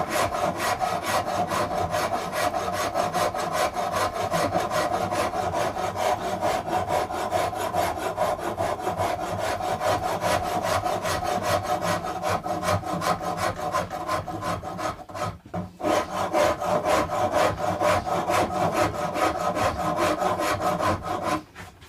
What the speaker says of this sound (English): It's called a half round rasp.